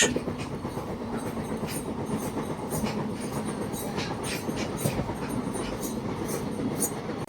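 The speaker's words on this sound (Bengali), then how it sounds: "সেখান থেকে আমাদের ট্রেনটা ছিল কাঠগোদাম এক্সপ্রেস" Kathgodam Express train rolling along the tracks near Bolpur Shantiniketan, a steady loud rumble with repeated clickety-clack wheel beats throughout.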